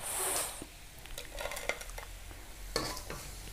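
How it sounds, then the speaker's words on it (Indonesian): Crispy, thinly sliced fried jengkol rattles and crackles on a plate in a home kitchen, giving a brief burst of light dry clicks followed by scattered soft taps and scrapes, close and fairly quiet. "Tuh di piring aja dia bunyi kletik-kletik gitu."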